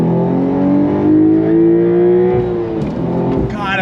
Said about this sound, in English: God, I love the sound of that flat 6